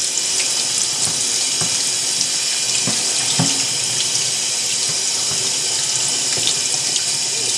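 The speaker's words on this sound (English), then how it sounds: "Then I'll peel it off while the water's running, underneath the running water." Tap water runs continuously into a sink as electrical tape is peeled off a dyed disc golf disc beneath the stream. The rushing splash is loud and steady, with a few faint clicks and knocks under it.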